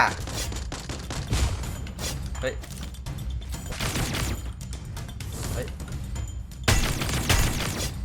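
Gunfire from the Free Fire battle royale video game, with repeated bursts of shots and impacts through a dense, continuous game soundscape, fairly loud and steady, with a sharper burst near the end.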